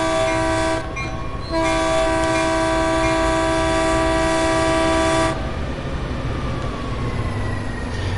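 Double-headed F40 locomotives with gallery cars in Train Sim World start to roll slowly on the Peninsula Corridor. A loud, sustained horn blast with a brief break mid-way sits over the deep rumble of the engines, and the rumble carries on after the horn stops.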